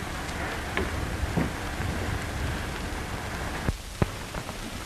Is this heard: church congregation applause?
no